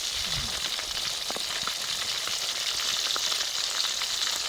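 KFC-style chicken pieces fry steadily in hot oil over a medium flame, a dense, even sizzle with faint crackles running the whole time, close and fairly loud, with no talking.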